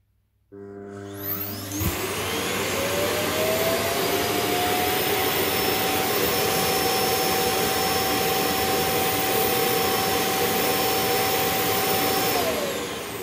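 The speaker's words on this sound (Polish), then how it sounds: "Więc zobaczcie teraz, jak wygląda samo dokowanie." A Proscenic M7 Pro robot vacuum docks at its emptying station, which starts up abruptly with a loud, steady suction roar and a rising whine that holds for several seconds before dropping away at the end.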